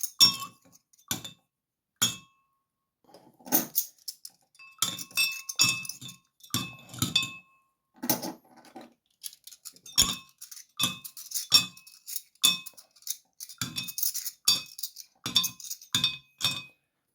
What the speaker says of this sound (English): get yourself a glass of water, and then you just need to submerge your silver coins in the water